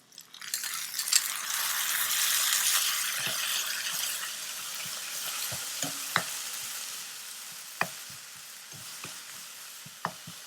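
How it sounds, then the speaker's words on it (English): Chopped tomato tipped into half-cooked frying onions for a mixed vegetable sabzi, a steady close sizzle with a spoon scraping and clinking against the pan in scattered sharp taps as it is stirred. "Now I'm going to go ahead and add just my chopped tomato in it."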